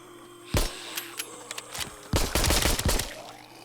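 Gunfire in the VR zombie-shooter Arizona Sunshine: a single sharp shot, a few scattered pops, then a rapid burst of several shots fired close and loud.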